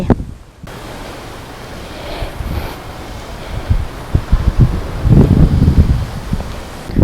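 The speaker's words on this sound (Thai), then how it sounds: "ลมแรงอีกเช่นเคย" Strong wind gusts through an outdoor public park in Lukang, Taiwan, on a cool 15-degree day, a steady broadband roar with heavier low buffeting that swells toward the end.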